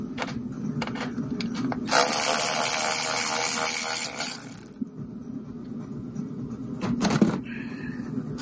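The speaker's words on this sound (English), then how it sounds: "I'm going to loosen these top bolts up here and then I can pull the strut" Ratchet loosening the strut top bolts on a Mini Cooper, a burst of rapid clicking and metallic rattling for a couple of seconds, then quieter clicks and knocks, close and with no talk.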